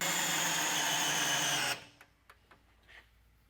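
A Dewalt DCD794 compact drill powered by a 9Ah FlexVolt battery whirs at full speed for under two seconds, then cuts off abruptly, followed by a few faint clicks and handling knocks.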